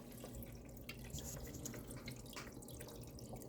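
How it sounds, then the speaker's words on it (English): An AeroGarden tabletop hydroponic pump kicks on and water trickles and splashes steadily from its spouts, a soft continuous flowing sound heard up close without any talking. "Now you can hear it kick on. See the water starting to come out."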